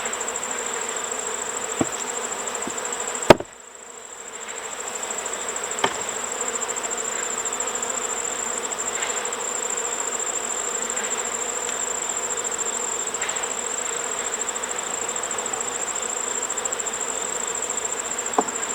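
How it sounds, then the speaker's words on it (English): Honey bees hum at the entrance of an open hive, with fanning bees at the front. The drone is steady and close, broken by a sharp click near the start and a few faint taps. "I see a lot of bees at the front fanning"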